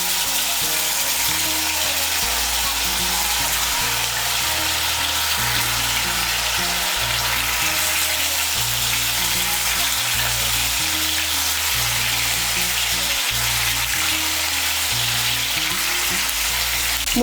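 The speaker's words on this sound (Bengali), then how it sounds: "এর মধ্যে মুইঠাগুলো ভেজে নিচ্ছি।" Lentil dumplings (muitha) deep-frying in hot white oil, a steady, loud, continuous sizzle and bubbling that holds evenly throughout with no voices.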